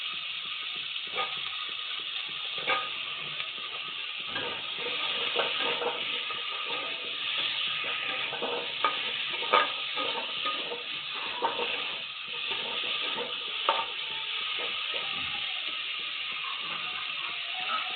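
Ridge gourd and tilapia fry in a pan with a continuous muffled sizzle, broken by repeated scraping and clattering stirring strokes at an uneven pace.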